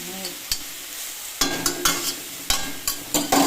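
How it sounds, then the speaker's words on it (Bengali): Fenugreek greens being stirred and fried with garlic in a pan, with intermittent sharp scrapes of the spatula over a steady low sizzle, close and fairly loud, no talking. "এই জলটা শুকিয়ে যাবে আর শাকটা ভাজা হয়ে যাবে"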